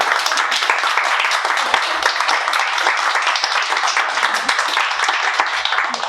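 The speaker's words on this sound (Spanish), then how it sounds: "Entonces pido un aplauso, por favor, para Adriana Franco." An audience at an award ceremony for the Premio África 2023 claps in a dense, sustained round of applause. The clapping is close and lively and holds steady for the whole stretch.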